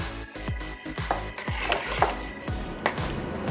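Spoon stirring reserved vegetables back into a pot of pureed corn chowder: repeated close scraping and knocking strokes against the pot in an uneven rhythm, alone with no talk.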